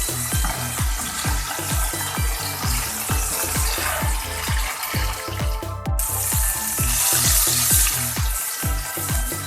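Beef seekh kebabs fry in a hot pan over a raised flame, a steady loud sizzle broken by regular low thumps and scrapes as they are turned and pressed, with no talking.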